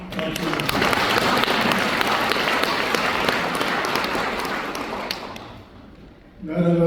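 Audience at a lecture hall applauding, a dense sustained burst of many hands clapping that fades out near the end before a voice resumes speaking.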